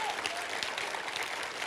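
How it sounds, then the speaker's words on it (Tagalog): A church congregation gives loud, sustained applause, a dense, even wash of clapping heard close and continuous throughout. "Malakas po na palakpak sa Panginoon"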